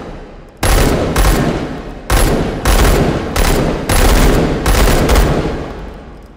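A firearm in the VR shooting game H3VR, fired left-handed, lets off about ten loud shots, many in close pairs with brief gaps between them, each crack sharp and near.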